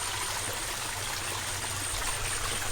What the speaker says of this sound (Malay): Wah, ada air terjun eh.